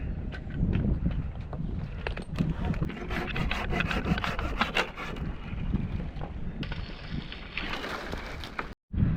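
A hand saw rasps back and forth through a tree limb during tree thinning, a steady run of close, rhythmic rubbing strokes with a brief pause near the end.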